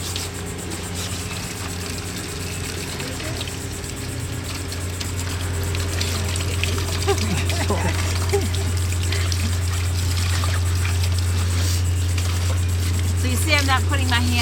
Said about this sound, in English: So even though water's coming out the side